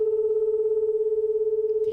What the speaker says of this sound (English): You hear the wobble? That's called a beat frequency.